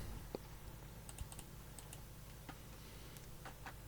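Quiet clicks of a computer keyboard while a tempo value is entered in Cubase music software, a few scattered light keystrokes over a steady low hum, with no voice.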